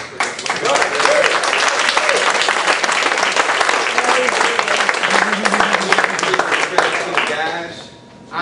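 A crowd at a county political forum gives sustained applause for a sheriff's lead deputy officer, dense steady clapping that fills the room and tapers off at the end.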